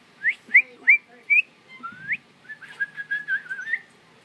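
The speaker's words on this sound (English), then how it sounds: "Whenever you whistle, he opens his mouth." A person whistles to a fallen baby bird being hand-fed blackberries: four short rising whistled chirps, then a rising slide, then a longer warbling trill, clear and close in a quiet room.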